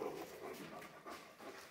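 A dog pants steadily at close range, quick rhythmic breaths with a faint whimpering edge, heard on its own.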